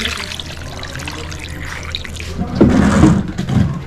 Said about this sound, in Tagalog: Lalagyan lang natin ng tubig.